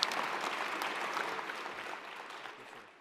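An audience at a Canadian Club of Toronto luncheon applauds to welcome the speakers, a dense, steady wash of clapping that holds for a few seconds and then slowly fades.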